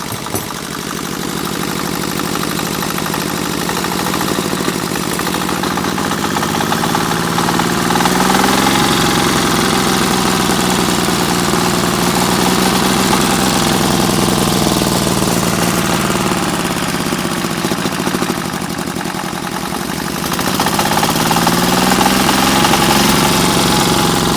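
A Zubr R180 walk-behind tractor engine, just repaired after freeze damage, runs steadily and loudly up close with a knocking, vibrating idle, its pitch rising and falling as the throttle is opened, with no talking.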